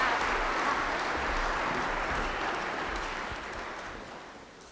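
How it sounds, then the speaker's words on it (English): A church congregation at a Sunday Mass claps for first communion children, a soft, even wash of applause that gradually fades away. "Let's give a round of applause for our first communion kids."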